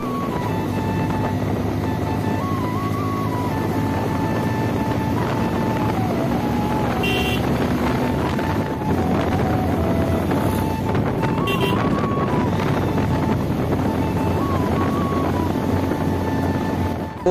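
Bajaj NS200 and Pulsar 125 motorcycles drag racing, a continuous loud engine drone with wind buffeting the microphone and shifting revs throughout.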